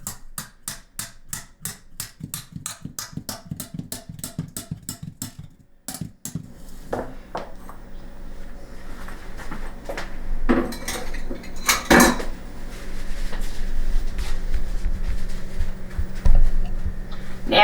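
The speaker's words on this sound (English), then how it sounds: "Hold your ears. I'm going to beat the pan." A spoon beating keto bread batter in a metal pan, fast loud rhythmic clanking for several seconds, then a pause followed by irregular scraping, knocks and clatter as the batter is worked.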